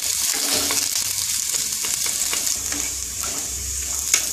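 Chopped onions sizzle steadily in hot oil in a pan while being stirred for Bengali aloo chop (potato chop), a continuous close frying hiss with light scraping, no talking.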